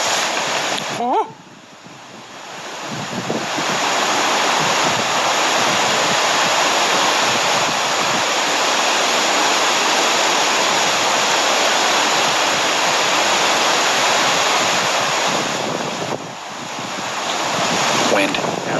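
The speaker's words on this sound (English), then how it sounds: "Wind. Yep. Wind." Strong wind blows outdoors at night, a steady broadband rush buffeting the microphone for most of the stretch, easing briefly near the start and again toward the end.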